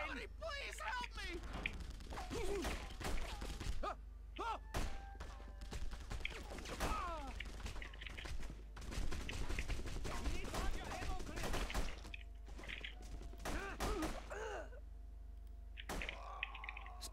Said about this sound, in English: Stay here until the gunfire stops.